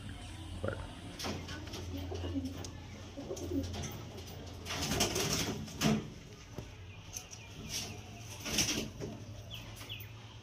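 Young highflyer Kalshira Madrasi pigeons coo in low bursts while wings flap in a few loud flurries, close by, amid background hum.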